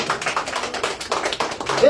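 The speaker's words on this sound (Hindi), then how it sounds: "Let's give a big hand clap." A church congregation at a prayer service in Sigatoka, Fiji claps hands together in a dense, continuous burst of applause, close and fairly loud, with voices mixed in.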